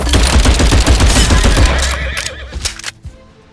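Cavalry horses neighing amid machine-gun and rifle fire in the war video game Glory Front Line, a loud dense battle din with whinnies over rapid gunfire that thins out toward the end.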